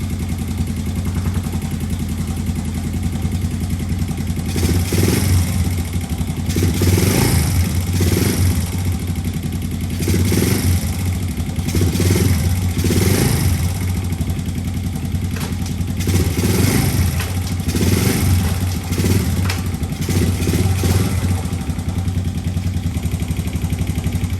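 A 1996 Honda TRX90 four-wheeler engine idles steadily and close up, with a ticking top end, a continuous mechanical clatter, and rhythmic pulsing throughout.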